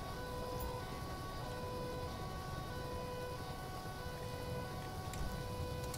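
A steady ambulance siren wails in the GTA 5 video game, held at an even level and fairly faint, with a low background rumble and no speech.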